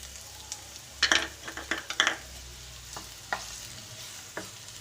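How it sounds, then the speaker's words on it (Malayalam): Finely chopped onion frying in hot oil for a beetroot curry, with a constant soft sizzle and a few clattering stirs and scrapes of a spoon against the pan. "ഇനി നമുക്കതിലേക്ക് ചെറുതായിട്ട് അരിഞ്ഞ് വെച്ചിട്ട് ഉള്ളി ഇട്ട് കൊടുക്കാം."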